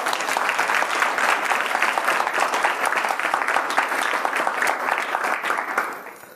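An audience claps loudly in dense, sustained applause, then it tapers off at the end.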